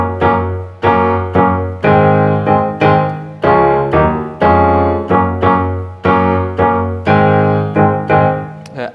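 Keyboard chords struck in a steady rhythmic riff, each stab ringing briefly before the next, full and loud with no speech.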